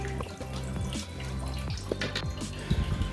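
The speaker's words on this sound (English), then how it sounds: "all the water that is left over there, it's coming out" Leftover water drains out of a toilet flush tank, a close trickling and gurgling with drips and small splashes, getting busier toward the end.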